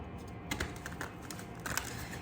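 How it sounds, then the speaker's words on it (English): A deck of tarot cards is shuffled by hand, producing faint, irregular soft clicks and riffles over a low background hiss, with no talking. "Hold on, I'm gonna shuffle."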